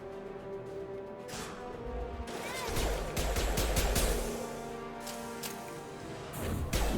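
Rapid bursts of gunfire from the video game Mass Effect 2, loud and clustered with sharp impacts and crashes, building to a denser volley midway.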